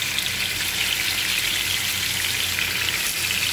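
Fish pieces sizzle steadily in hot coconut oil, a dense, even crackle that holds at a constant level from start to finish with no voices over it.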